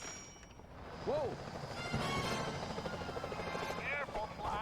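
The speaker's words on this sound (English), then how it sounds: "Careful, Sly. Those security choppers are bad news." Security helicopter rotors drone steadily in Sly Cooper: Thieves in Time, a continuous mid-loud whir layered with game effects and bursts of gunfire-like noise, while a voice talks over it.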